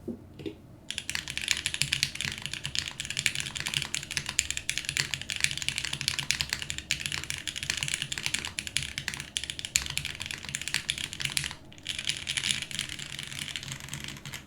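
Fast continuous typing on a mechanical keyboard with a PP plate and filmed, lubed HMX Black switches, dense close clacking keystrokes with a couple of brief pauses.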